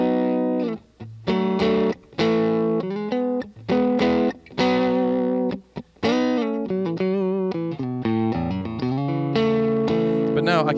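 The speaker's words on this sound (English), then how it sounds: "And this is just an AC30 crunch tone." An electric guitar, a Reverend Rick Vito signature model, is played through a modeled AC30 crunch tone, with chords and single notes in a lively phrase with short pauses and slightly gritty, clear sustain.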